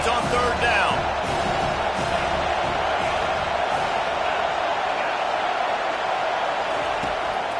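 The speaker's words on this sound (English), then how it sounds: "Decibels rising as the crowd gets behind this defense on 3rd down." A big college football stadium crowd roars in a sustained, loud wash during a third-down play at Clemson versus Miami, with a broadcast commentator talking over it.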